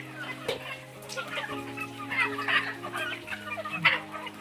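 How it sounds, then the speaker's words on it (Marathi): Country chickens on a poultry farm cluck and call in an overlapping flock, close and steady, with a low background hum underneath. "सर्व पक्षी गावठी कोंबड्या."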